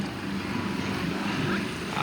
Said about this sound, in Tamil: பலாரியில் தரையிறங்க போகுது இந்த விமானம்.